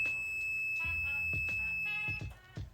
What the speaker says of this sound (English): anytime there's a live wire, you poke it, it will start beeping